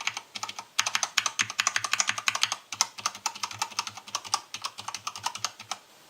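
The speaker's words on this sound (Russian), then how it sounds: "Клавиши, на которых установлены колечки, звучат намного тише. Звук более мягкий и приятный." Rapid continuous typing on a mechanical keyboard with Cherry switches fitted with silicone O-rings, giving dense, fairly soft clicking and clacking keystrokes at close range with brief pauses.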